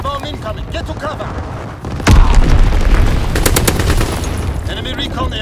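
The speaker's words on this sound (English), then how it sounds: "Enemy anti-aircraft fire." Enemy anti-aircraft fire in the video game Call of Duty: WWII, heavy booms and rapid bursts of gunfire breaking in loud and close, with a sustained rumble over game sounds.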